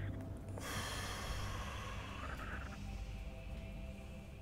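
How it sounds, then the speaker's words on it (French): A deep breath taken during a French-language guided meditation, one long audible inhale and release, close to the microphone over a soft steady background hum, with no talk. "Une respiration."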